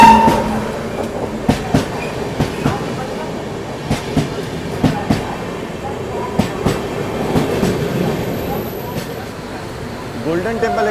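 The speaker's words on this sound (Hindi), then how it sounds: "ये देखिए प्लेटफॉर्म नंबर 1 पे अरावली एक्सप्रेस एंटर कर रही है।" Aravali Express entering a station platform, with a regular clickety-clack of wheels over rail joints, sharp repeated clanks over a low rumble, and a faint squeal near the end; a voice talks over it.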